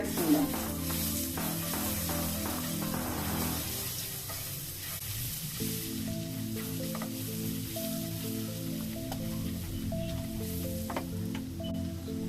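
Mustard seeds, cumin, curry leaves and ginger-garlic paste sizzle in hot oil for stuffed bitter gourd, a steady crackling hiss with faint spattering pops, heard close and alone.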